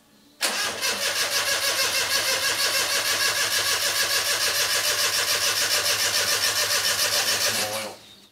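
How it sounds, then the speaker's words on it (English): A race car engine cranks and fires for the first time, then holds a loud, steady rumbling run for several seconds before cutting off, heard close with no talking. "now we're going to turn the key for the first time and see if it actually cranks"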